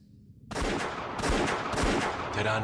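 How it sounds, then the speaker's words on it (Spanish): Several gunshots fired in the execution of Che Guevara crack out in quick succession, four loud, close, sharp reports in about two seconds. "Terán disparó varios tiros."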